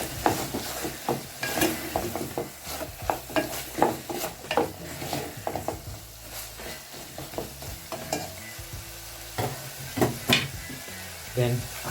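Capsicum stirred through a hot pan while making carrot rice with beef, a steady sizzle broken by repeated sharp scrapes and clacks of the utensil against the pan, close and fairly loud.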